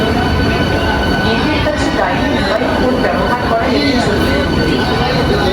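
A local train pulling out of Howrah station, with a loud, continuous rumble and rattle of wheels and carriages and a faint squeal, close and unbroken, and voices mixed in.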